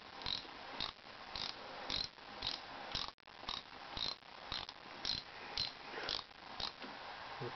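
Ratchet wrench loosening a regular threaded fastener on a Woodmaster planer molder, a steady run of rapid clicking strokes in short bursts with a brief pause midway, close and clear with no talking.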